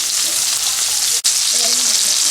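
Shrimp fry in hot oil for a spicy shrimp dish, giving a loud, bright, continuous sizzle. A single brief dropout interrupts it about halfway through.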